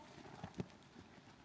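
A few soft hoof thuds from horses working in a dressage arena, quiet and fairly distant, with one slightly louder step.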